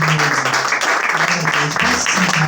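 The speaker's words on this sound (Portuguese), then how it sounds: "Vamos dar uma salva de palmas ao Senhor." Congregation applauding at a Pentecostal church service, a steady wash of clapping sustained throughout, with a voice speaking over it.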